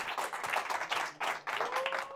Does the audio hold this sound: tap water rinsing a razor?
no